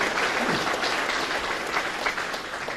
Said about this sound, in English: I think he deserves a warm round of applause.